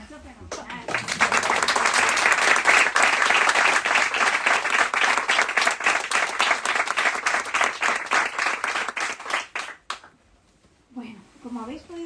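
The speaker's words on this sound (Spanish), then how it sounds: "Os voy a pedir por favor un aplauso a los presentadores," An audience at a book launch for a women writers' day gives the presenters a sustained burst of applause, dense and loud for about nine seconds before it tapers off, after which a voice starts speaking.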